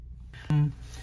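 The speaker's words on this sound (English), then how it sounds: "It's gonna close the valve and it should stop there." A White Rodgers 1311 zone valve motor closing gives a brief low electric hum with a click at its start, lasting about a fifth of a second, close and moderately loud in a quiet room.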